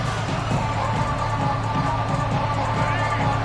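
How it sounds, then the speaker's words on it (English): A dense, steady roar of a large crowd cheering in a stadium, continuous and loud throughout with no clear peaks or pauses. "Listen to the crowd energy here in the early going"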